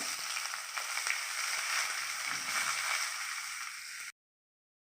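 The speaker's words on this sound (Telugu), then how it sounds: "ఉల్లిపాయలు వేయించుకోవాలి బ్రౌన్ కలర్ వచ్చే వరకు" Steady crackling sizzle of onions frying in hot oil with tempering spices, close and continuous, then cut off abruptly into silence near the end.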